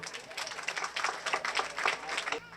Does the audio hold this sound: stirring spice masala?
no